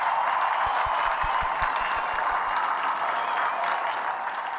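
Dense, steady applause from a huge outdoor crowd greeting the Queen on the palace balcony during the Platinum Jubilee, a continuous wash of clapping with no distinct voices standing out.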